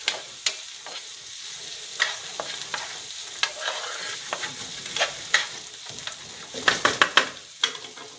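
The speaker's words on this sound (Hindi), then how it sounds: "चम्मच थोड़ा थोड़ा सा आस्ता आस्ता हिलाएंगे बीच में" A spoon slowly stirs garlic mushrooms frying in a pan, giving a soft continuous sizzle broken by scattered gentle scrapes and taps, with a brief cluster of clinks near the end and no voices.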